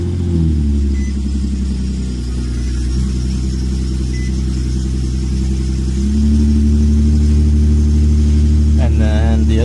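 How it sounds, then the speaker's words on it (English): A 3.7-litre Infiniti FX37 engine idles steadily with a deep, continuous rumble, its tone rising slightly as it revs about six seconds in; the car is close and loud throughout. "we just gotta turn the car on, let it run, get to operating temperature, and then rev it a few times"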